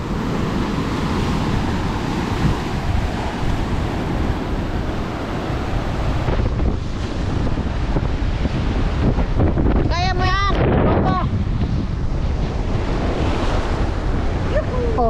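Ocean waves rush and wash ashore continuously with wind noise buffeting the microphone; a brief excited voice cuts through near the end.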